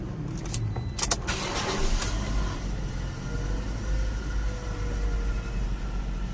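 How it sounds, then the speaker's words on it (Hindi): A car engine starts and settles into a steady idle, heard up close beside a clatter of keys and small cabin noises, with no talk. "ये जी गाड़ी स्टार्ट हो गई है।"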